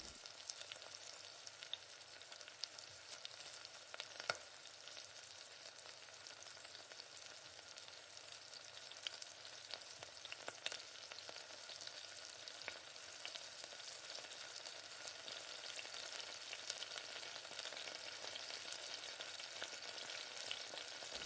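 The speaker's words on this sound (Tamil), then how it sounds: "இப்போ உரித்து வச்சுருக்க பூண்டு நல்லா பச்சை வாசனை போகிற அளவுக்கு எண்ணெயிலே நல்லா வதக்கி விடுங்க." Peeled garlic frying in oil for a tomato chutney makes a soft, continuous sizzle, faint and distant-sounding, with occasional tiny pops and no voices.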